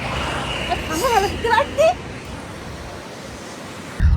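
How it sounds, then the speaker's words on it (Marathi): A river flows in a steady, broad rush close by in snowy Sonamarg, Kashmir. Voices talk over it partway through, and wind buffets the microphone near the end. "वाव, बघा ना किती छान नदी आहे."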